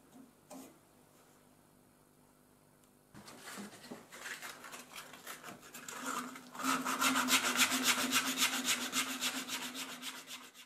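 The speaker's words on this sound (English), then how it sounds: "It's only literally just hand sanding to get this as smooth and as round as possible on the top." Hand sanding on the top of a turned wooden Valentine's heart box, a soft scratchy rubbing that starts faint, grows busier after a few seconds and turns into steady, close back-and-forth strokes.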